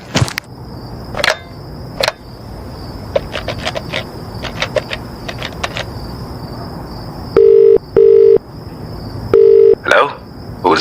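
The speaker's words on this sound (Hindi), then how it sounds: "पीसीओ तो मिल गया, अब जरा फोन कर लूं।" A telephone number is dialed at a PCO payphone: a steady dial tone hums under a quick series of short keypad tones, then three longer loud beeps follow. The sound is close and clear.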